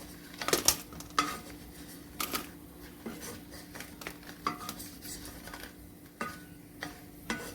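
Roasted chutney ingredients being moved onto a plate make light, scattered clinks and taps of a spoon against metal and dishware, quiet and close, with irregular gaps and no talking.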